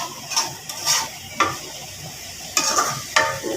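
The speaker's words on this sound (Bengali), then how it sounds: "এখন আমি যে দোল বেগুন, সিম এগুলো দিয়ে দিচ্ছি। দিয়ে নেড়ে চেড়ে আমি" Eggplant and flat beans being stirred and sautéed in a pan, heard as several scraping, clattering stirs at irregular intervals over a faint sizzle, close by with no talking.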